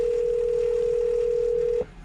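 A phone call dial tone through a car audio system from a CarPodGo T3 Pro, one steady, loud, unbroken hum lasting nearly two seconds before cutting off abruptly, with no voices.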